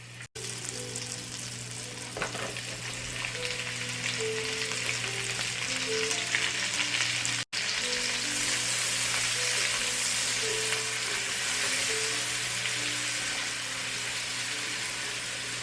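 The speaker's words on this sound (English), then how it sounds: "Now I'm going to add the onions to the melted butter and saute until tender" Onions sautéing in melted butter in a sauté pan, a steady close sizzle and crackle that continues evenly throughout.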